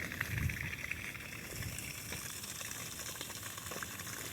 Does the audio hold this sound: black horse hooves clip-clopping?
no